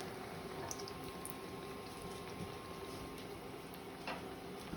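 Beaver Tail dough frying in hot fat on an induction hob, a steady, soft bubbling sizzle with occasional small pops, faint and even throughout.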